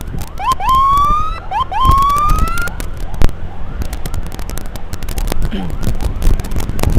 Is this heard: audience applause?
no